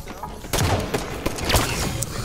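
Gunfire in the Halo 5 Infection multiplayer mode, a burst of shots and thuds crackling over a busy game mix, loud and close, with a player talking over it.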